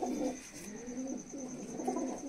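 A Pamoj pigeon coos in low, rolling phrases, close by, with a steady faint high whine in the background.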